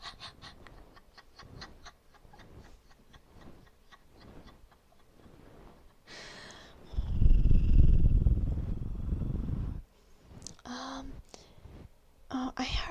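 A person imitates a cat's purr deep in the throat, like a rolled R, producing a loud, steady rumbling burst of several seconds that stands out after softer whispery sounds, with brief breathy noises following.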